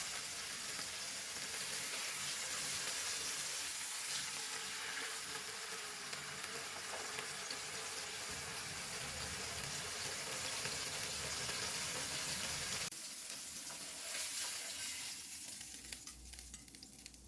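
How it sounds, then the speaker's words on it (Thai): Steady sizzling and crackling of chicken breast frying in a pan until golden on both sides, continuous and close, with stirring clatter and a brief change near the end; no talking. "เราทอดจนไก่เหลืองทั้งสองด้านนะคะ"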